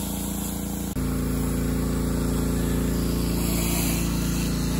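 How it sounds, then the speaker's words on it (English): A Ryobi 3300 PSI pressure washer running with a 15-inch surface cleaner, a loud, constant engine drone with a steady hiss of spraying water, close and uninterrupted after a brief hitch at the start. "Our pressure washer is the Ryobi 3300 PSI."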